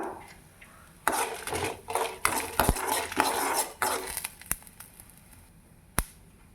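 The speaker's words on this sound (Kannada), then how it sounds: "ಇದರಲ್ಲೇ ಒಣಮೆಣಸಿನ್ಕಾಯಿ ಹಾಕ್ಕೊಂಡು ಹುರ್ಕೋಬೇಕು ಇವಾಗ" Cumin and dried red chillies rattle and scrape while dry-roasting in a hot pan, with bursts of stirring and clinks of a utensil against metal, fairly close and moderately loud.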